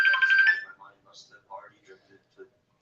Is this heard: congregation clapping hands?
no